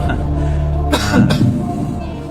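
Two sharp coughs in quick succession, close and loud, over a faint background hum, with a brief throaty rasp after them.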